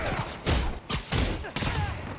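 Enemies firing guns in the Marvel's Spider-Man video game: loud bursts of gunfire in quick succession, three or four volleys with brief gaps between them, close and dominant, with no voices.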